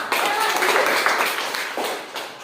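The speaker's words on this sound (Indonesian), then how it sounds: "Bagus, tepuk tangan." A school class claps hands together in a short, dense burst of applause with some voices mixed in, fading toward the end.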